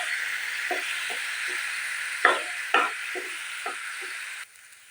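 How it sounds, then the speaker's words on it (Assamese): A paste of two ground tomatoes and a ripe green chili fries in spices in a pan, giving a steady close sizzle broken by a few light spatula knocks, then dropping quieter at the end. "এইখিনিও মই ভালদৰে ভাজি লওঁ।"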